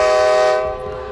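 A train whistle blows at night, a loud sustained harmonic tone that holds steady and then fades slightly, heard alone without voices.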